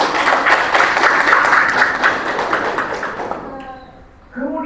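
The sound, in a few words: applause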